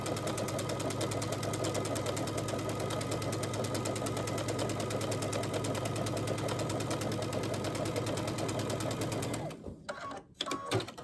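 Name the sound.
sewing machine stitching a quarter-inch seam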